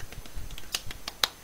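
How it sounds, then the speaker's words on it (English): Several sharp hand claps in quick, uneven succession, close and fairly loud, lasting about a second and a half with no voices. "Those were claps."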